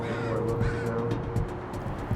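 Several crows caw repeatedly in a continuous outdoor scene, their harsh calls overlapping at moderate distance over a steady low background hum.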